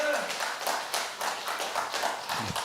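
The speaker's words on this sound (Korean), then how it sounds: "또 한번 박수" Short burst of rhythmic clapping from an audience at a health lecture in a care hospital, moderately loud and fairly regular in beat, ending with a brief low thump.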